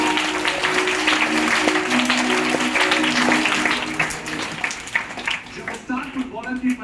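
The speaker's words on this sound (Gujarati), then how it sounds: "બંને માતા પિતાને વધાવી લઈએ ભાઈ આપણે જોરદાર તાળી" Loud applause from a gathered crowd at a religious assembly, a dense clapping roar that holds steady, then thins and fades toward the end, with a voice speaking over it throughout.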